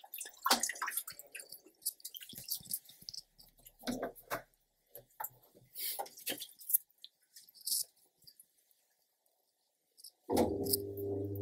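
A top-loading washing machine drains water from its tub with irregular gurgles, splashes and drips, followed near the end by a steady motor hum kicking in.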